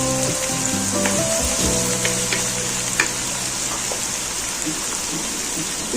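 Chopped onions sizzle and crackle steadily in a hot oiled pan for an onion and tomato chutney, a dense continuous frying hiss with occasional stirring clatter, close and fairly loud throughout.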